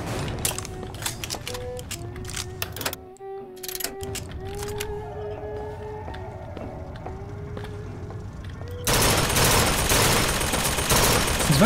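Burst-fire gunfire from a weapon in the video game Bioshock Infinite: Burial at Sea, sharp repeated shots with mechanical clicks over a tonal game soundtrack, ending in a loud dense rush of noise.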